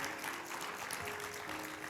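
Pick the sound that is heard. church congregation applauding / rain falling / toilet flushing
church congregation applauding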